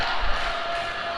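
A crowd cheering for Belgium during a dodgeball match at the Dodgeball Euros, a steady roar of voices filling the hall with a faint thump near the start.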